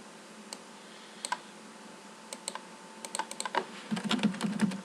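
Someone types on a computer keyboard while working in Netcad software: scattered single keystrokes at first, then a quicker, denser run of clicky taps near the end, close and clear.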